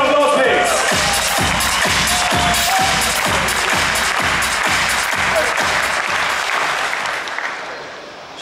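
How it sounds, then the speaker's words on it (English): A large audience at the Windows App Fest inauguration in Bangalore applauds the Microsoft India chairman with dense, loud, sustained clapping that thins and fades near the end. "Big round of applause,"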